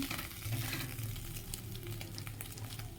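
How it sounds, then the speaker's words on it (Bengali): Roti flatbreads toasting in a hot pan give a soft, steady sizzle with faint crackle, close by and fairly quiet, with no talking. "আর এই দেখো রুটিগুলো একটু সেঁকে দিচ্ছি"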